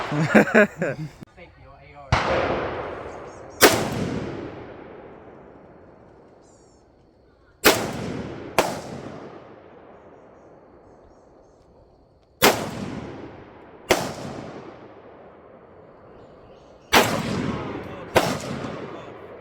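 Single shots from a Lee-Enfield British .303 rifle at an outdoor range, eight loud sharp cracks spaced a few seconds apart, each trailing into a long echoing decay, with brief talk at the start.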